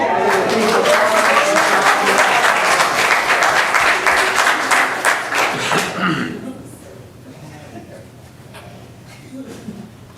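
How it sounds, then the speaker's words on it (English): Applause from an audience at a school board meeting, dense and steady clapping for about six seconds before thinning out into scattered claps and murmuring voices. "y'all go ahead and clap as they come down."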